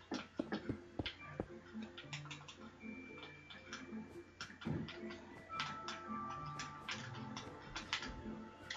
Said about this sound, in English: Sorry if you can hear the controller in the background